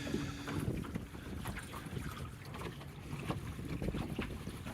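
A John Welsford Navigator sailboat under way in the Duluth Harbor of Lake Superior, with steady wind rush across the microphone and soft water sloshing and splashing against the hull close by, continuous throughout.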